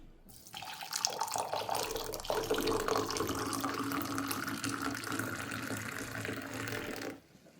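Water pouring into a cup of black coffee, a steady splashing, trickling stream running close by for about six seconds before it cuts off abruptly.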